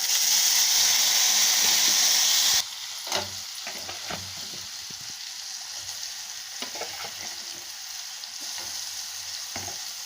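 Raw mango pieces with mustard seeds, fenugreek and asafoetida frying for mango pickle, a loud hissing sizzle that drops sharply as the mango goes in, then a quieter sizzle with scattered stirring scrapes.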